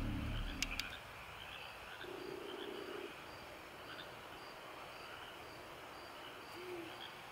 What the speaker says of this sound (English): The owl. That owl.